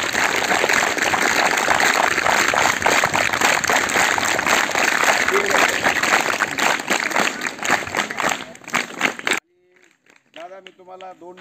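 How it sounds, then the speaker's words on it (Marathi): Audience applause at a school's Republic Day sports competition inauguration: loud, dense, steady clapping for about nine seconds that thins out and ends, followed by a voice speaking alone. "आपण सर्वजण जोरात टाळ्या वाजवूयातील"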